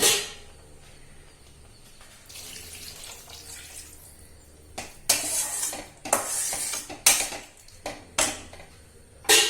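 Water pours into a pan of tomato chutney for a few seconds, followed by clanking metal and sharp scraping of a utensil against the cookware.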